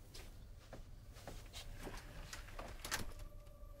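An indoor door being shut: a few soft, scattered knocks and sliding bumps, quiet and close, with faint room tone between them.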